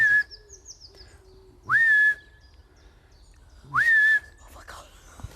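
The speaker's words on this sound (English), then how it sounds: "How do you announce your arrival? Right, well, I'll whistle." A person whistles to announce their arrival, giving two short, loud, rising whistled notes a couple of seconds apart, with faint bird chirps and quiet ambient sound in between.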